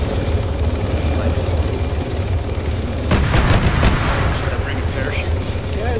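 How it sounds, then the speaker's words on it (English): Arma 3 combat sequence with a helicopter rotor droning steadily throughout and a short, loud burst of gunfire partway through, with players talking over the action. "Get everybody up on that helicopter."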